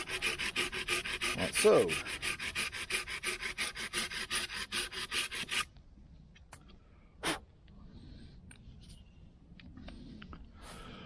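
A hand saw tidies a pruning cut on a tree branch outdoors with a quick, even run of close, rasping back-and-forth strokes that stops halfway through, followed by quiet with a few small knocks and a brief spoken remark.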